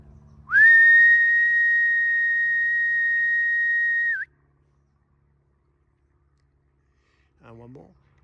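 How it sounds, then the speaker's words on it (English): A single long, steady whistle calls Labradors on a rural walk, loud and near, holding one pitch for about three and a half seconds; after a pause a brief, faint voice-like sound follows. "Here comes another whistle."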